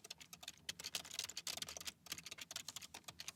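Someone types quickly on a computer keyboard, producing a dense run of soft, close key clicks with a brief pause midway, quiet and without talk.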